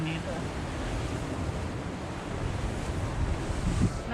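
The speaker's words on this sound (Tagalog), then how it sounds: "Sarap ng hangin dito." Wind sweeps steadily across a beach in Barcelona, Spain, a continuous loud rush buffeting the microphone with surf roaring underneath, unbroken for several seconds.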